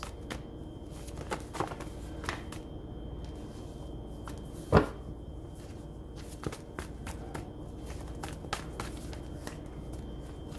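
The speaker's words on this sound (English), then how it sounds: "Sorry for all the extra shuffling." Tarot cards being shuffled by hand: soft, faint riffling and scattered light taps and clicks in a quiet room, with one sharper knock partway through and no talking.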